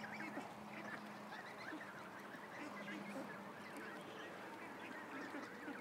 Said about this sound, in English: I can't believe how the ducks are all over here because I'm talking, eh?